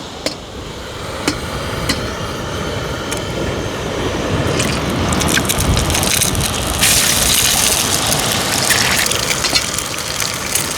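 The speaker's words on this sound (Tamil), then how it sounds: "முட்டை நல்லா அடி பொரியட்டும்" An egg cracked into leftover oil used for frying fish fries in a pan at an outdoor beachside cooking spot, making a dense, loud crackling sizzle with sharp pops that builds and holds steady.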